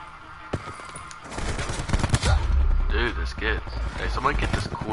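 Rapid gunfire from Black Ops 4 Zombies rattles in dense bursts, loud and continuous after a brief quieter start, with voices talking over it.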